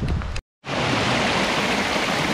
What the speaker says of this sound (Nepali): माथिबाट झरना बगिरहेको छ